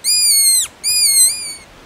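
A blown fox call, made to mimic a suffering animal, gives two long, loud, high, wavering squeals separated by a short pause, heard up close and alone.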